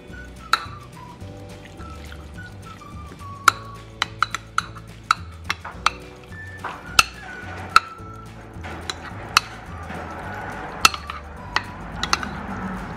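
Cornstarch being stirred into green beans and chicken in a pan, with repeated sharp clinks of a utensil on metal at an uneven pace over a steady low sizzle, no talk.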